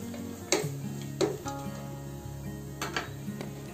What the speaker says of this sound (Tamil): இப்போ ட்ரை கோகோனட்டும் நல்லா கலர் மாறுற அளவுக்கு ஃப்ரை பண்ணிக்கோங்க.